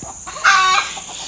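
A Gavran hen on a farm gives one short, loud squawking cluck up close, with quieter barnyard sounds before and after.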